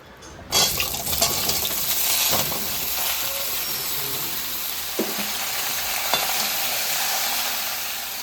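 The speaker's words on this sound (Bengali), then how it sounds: "এই তেলেই আমি লাউ বসাই দেবো" Bottle gourd dropped into hot oil with bay leaf and radhuni, a sudden loud sizzle that settles into steady frying hiss with occasional stirring knocks, close and without voices.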